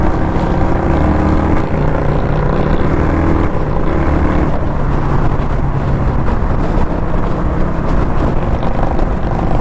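A 2021 Indian Scout Bobber motorcycle cruises steadily at highway speed, its engine drone loud and constant and mixed with heavy wind rush, with no talk over it.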